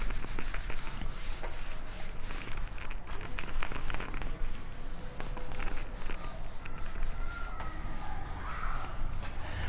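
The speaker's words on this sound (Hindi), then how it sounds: "यार रब कर देते हैं पहले, बहुत भर गया" Board eraser rubbing written notes off a classroom board during a physics lesson on optics, continuous dense scrubbing with rapid back-and-forth strokes, close and steady for the full length, no talking.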